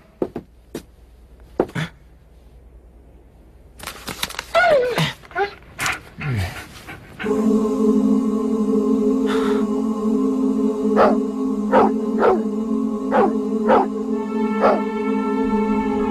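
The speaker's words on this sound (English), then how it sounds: "You're barking. I get it." An animated dog gives a few sharp, isolated barks, then a flurry of yips and whimpers, followed by continuous sound with voices talking.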